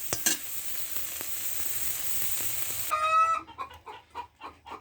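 Soybean chunks frying with a little turmeric in a pan while being stirred give a steady, close sizzle for about three seconds, then give way to sharper, choppier tones.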